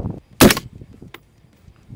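A single loud, sharp report from a .30 caliber rifle fitted with a Dead Air Sandman S suppressor cracks out near, followed by a faint brief click-like echo, with no talking.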